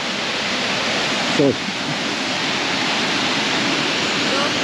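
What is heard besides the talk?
waterfall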